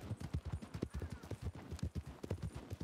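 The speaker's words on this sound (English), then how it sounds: "I guess listening to the horse too could help." Horse hooves clip-clop in a steady, brisk rhythm throughout a short stretch of a video game, fairly close and with no talk over them.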